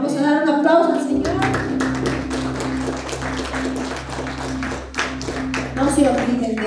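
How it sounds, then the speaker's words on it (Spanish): A church congregation claps in sustained, dense applause, loud and close, with a voice speaking over it at the start and end. "Vamos a dar un aplauso al Señor."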